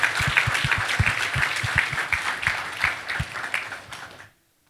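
An audience at an anniversary gala and sneaker ball claps in a dense burst of applause, fairly close, with a few sharp individual claps standing out before it stops abruptly.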